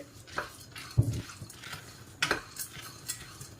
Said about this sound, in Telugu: వీటిని డ్రై రోస్ట్ చేసుకోవాలి సన్నని మంట మీద పెట్టుకొని చక్కగా వేపుకోవాలి